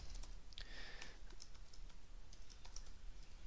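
A command typed on a computer keyboard in a quiet room: a short run of light, irregular key clicks, with a brief quick burst near the start and sparser taps after.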